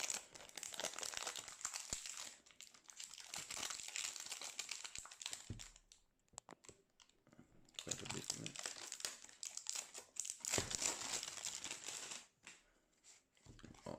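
Crinkling and rustling of packaging as a Digiflavor Edge 200W vape kit is unboxed, with close, busy crackles in two long bursts separated by a quieter stretch of scattered handling noises.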